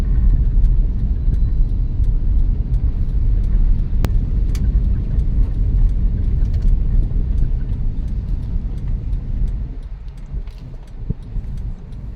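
Heavy road traffic near Fairview in Quezon City, a loud, constant low rumble of vehicles close by, with brief sharper sounds and a slight easing toward the end.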